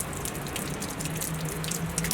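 Hot mineral spring water, fed from underground in Sofia, flows and trickles continuously nearby with a steady, even splashing and no voices.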